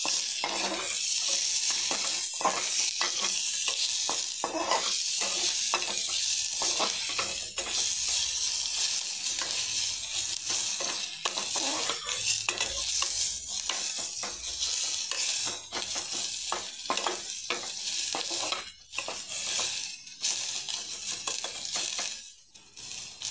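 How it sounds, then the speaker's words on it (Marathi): Garlic fries in hot oil for a brinjal and potato bhaji, with a continuous close sizzle and frequent light clinks and scrapes of a spoon stirring against the pan. "चांगला असा फ्राय करून घ्यायचा तो तेलात."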